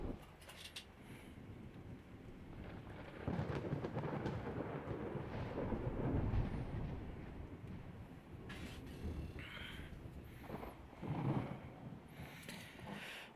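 A thunderstorm at sea in the naval warfare game Ultimate Admiral Dreadnoughts rolls on as a continuous low rumble of thunder and rain, swelling and fading over several seconds and heard faintly without speech.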